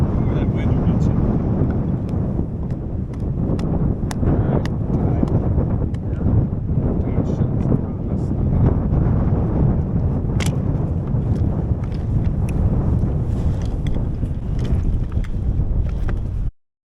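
Strong outdoor wind buffets the microphone in a loud, continuous low rumble with gusty surges, and voices talk at times beneath it before it cuts off abruptly.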